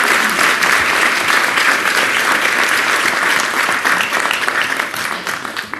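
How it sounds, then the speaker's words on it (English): An audience at a New York City mayoral event bursts into sustained, dense applause that stays loud across the room, with many hands clapping together and tapering only slightly at the end. "Let's give them all a round of applause"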